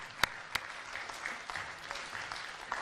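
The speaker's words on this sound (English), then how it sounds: "please give them a round of applause." A conference audience gives the programme committee a faint, sparse round of clapping at closing remarks, with a few sharper individual claps standing out.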